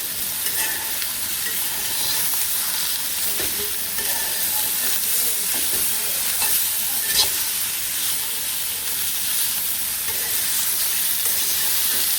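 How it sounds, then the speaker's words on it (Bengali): Potatoes and bitter gourd stir-frying together in a pan in a village kitchen, a loud steady sizzle and hiss with occasional scraping stirs throughout. "এখন হচ্ছে উস্তা দিয়ে দিই তারপরে একসাথে আর কি ভাজি ভাজি করে নিই"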